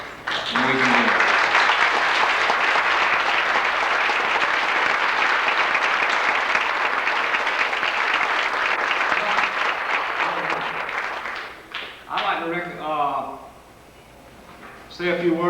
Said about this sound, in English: let's give these players and cheerleaders another round of applause